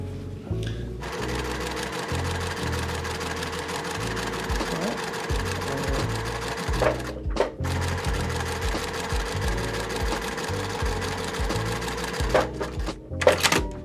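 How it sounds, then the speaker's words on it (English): A sewing machine stitching quilt block pieces for a half-square-triangle star, running in steady rhythmic bursts with brief stops between seams, close and clear with little talk. "we're going to sew on the 2 remaining sides of our star."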